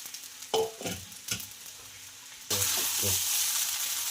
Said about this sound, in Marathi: आणि याला छानपैकी असं फ्राय करून घ्यायचं आहे एकदम खरपूस भाजेपर्यंत